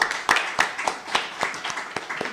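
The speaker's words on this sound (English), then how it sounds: "Give him a nice round of applause." Sparse, distinct hand claps at a college student awards ceremony, a small group clapping in a quick, uneven rhythm at moderate distance, thin rather than a full roar.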